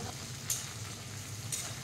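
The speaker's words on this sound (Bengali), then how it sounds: "আমি কিন্তু গ্যাসটি একদম লো ফ্লেমে রেখেই সবজিগুলো ভাজছি" Vegetables with peas and brinjal fry over low flame in a kadai, giving a steady, close sizzle with a couple of faint stirring scrapes.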